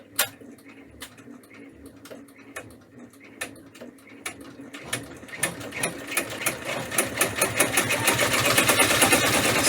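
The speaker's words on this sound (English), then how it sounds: "So I'll put that back in the machine, and hopefully the satin stitch stitches okay." An embroidery machine stitching a satin stitch for a mug rug applique starts with sparse, separate ticks, then speeds up into a dense, rapid, even mechanical clatter that grows steadily louder, heard close with no talk.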